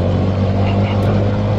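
A stock, roughly three-year-old RUSI Classic 250 v2 motorcycle engine drones steadily and loudly up close, a continuous low rumble with a constant hum and no clear rise in pitch.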